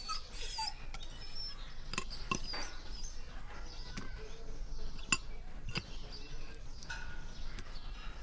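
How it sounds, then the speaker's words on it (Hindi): An imported pet dog makes short soft sounds, faint whimpers and snuffles, against a low room background in a Hindi comedy film scene. "नया कुत्ता है,"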